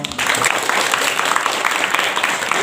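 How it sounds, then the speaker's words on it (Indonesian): An audience at an Islamic boarding school, Pondok Pesantren Amanahtul Umma, breaking into steady, dense applause, a loud continuous wash of many hands clapping close by. "Tepuk tangan dong."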